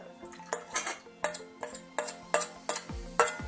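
Clattering and scraping of a utensil against a bowl while sauce is mixed with potato starch, a steady series of close, sharp clinks at a fairly even rhythm.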